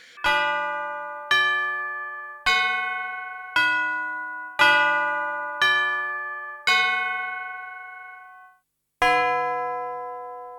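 A tubular bells sample played on a Korg DSS-1 12-bit digital sampler rings out in eight loud, evenly spaced strikes, each a bright metallic chime that decays slowly, with a short gap before the last.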